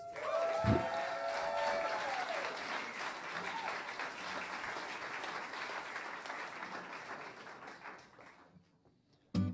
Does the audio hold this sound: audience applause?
yes